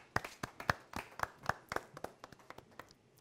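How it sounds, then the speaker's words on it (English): An audience claps for a contestant on stage at a competition broadcast, with a steady run of about twenty sharp, distinct claps over roughly three seconds, fairly close and loud with no voices. "A round of applause for him, please."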